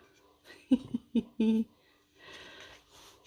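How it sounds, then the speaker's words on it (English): A dog's heavy, raspy breathing close by: a few short wheezy huffs, then a softer, steady rasp of panting, with no talking. "it's the dog panting in the background"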